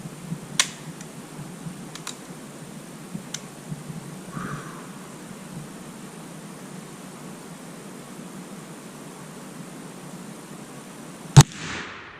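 A Thompson Center Seneca .36 black powder rifle fires a single sharp shot near the end, after a long, quiet stretch of faint background hiss and a few small clicks.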